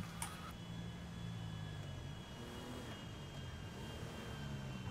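A video game airplane drones steadily with a low, continuous engine hum and faint whine, a constant mechanical background with no voices.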